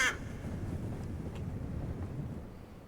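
A crow caws once briefly outside in the horror game Spirit Hunter: Death Mark, a short cry at the start before a steady windy rumble fills the rest.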